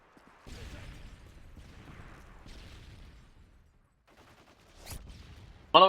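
Gunfire from Call of Duty Modern Warfare 3 comes as scattered, muffled bursts and thuds with pauses between them. A sharp, loud burst closes the moment.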